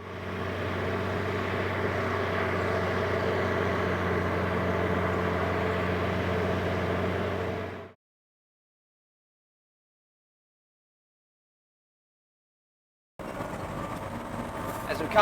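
A road grader with its diff lock engaged drives along, its engine giving a steady, loud, droning rumble. The sound cuts out abruptly partway through, then resumes near the end.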